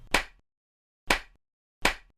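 Three sharp hand claps, close and clear, with an uneven rhythm: two spaced about a second apart and the third coming a bit sooner, each separated by silence.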